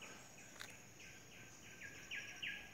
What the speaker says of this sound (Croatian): Čujete zvukove prašume, ptice neke, nešto.